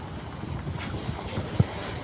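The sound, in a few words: strong wind at sea on a boat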